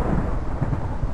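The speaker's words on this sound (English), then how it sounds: "Thunderstorms can go away." Low rumbling thunder from a Minecraft Bedrock thunderstorm rolls steadily through the whole moment, a dense continuous roar with faint rain-like hiss above it and no voices.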